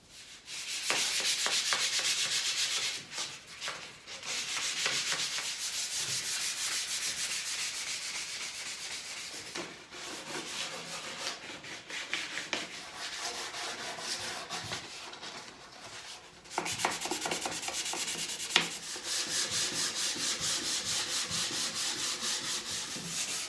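Continuous sanding of a wooden table, steady and close, with brief pauses and shifts in intensity over roughly twenty seconds, no talking.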